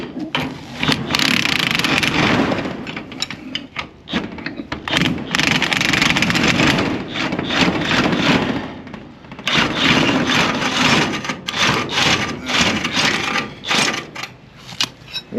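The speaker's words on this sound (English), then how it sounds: "I'm going to spin it with an impact wrench while I give it a little up force" Impact wrench spinning a rebar anchor out of a concrete slab, loud rattling bursts of hammering whir in long runs separated by short pauses, heard close.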